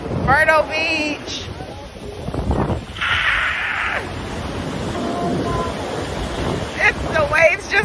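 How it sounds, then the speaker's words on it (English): Ocean surf at Myrtle Beach rolls in and washes back under gusty wind buffeting the microphone, with voices talking now and then close by. "The waves just keep coming."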